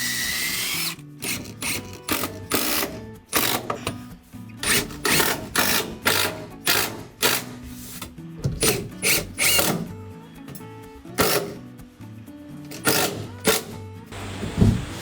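Power drill driving screws into an ash wood counter, with repeated short whirring bursts and pauses between them, close and fairly loud amid handling clatter.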